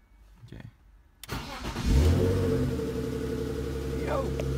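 Turbocharged BMW E46 engine cranks briefly, then catches and fires up loudly, settling into a rough, steady run with a couple of light revs rising near the end.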